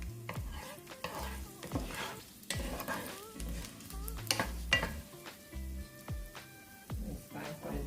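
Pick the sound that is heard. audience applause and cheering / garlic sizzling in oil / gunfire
garlic sizzling in oil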